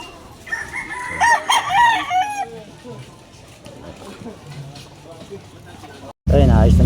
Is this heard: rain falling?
no